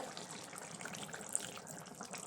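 Tamarind water poured into a pumpkin theeyal curry with drumsticks, a faint, steady trickle of liquid.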